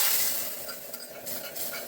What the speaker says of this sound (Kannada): ಈಗ ಈ ಒಗ್ಗರಣೆಯನ್ನು ನಾನು ಕವೆಗೆ ಹಾಕ್ತಾ ಇದ್ದೀನಿ